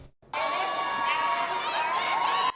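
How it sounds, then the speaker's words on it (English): A high school graduation crowd bursts into cheering after a brief quiet moment, loud sustained whoops and shouts continuing steadily to the end. "As the crowd cheered and their mother looked on"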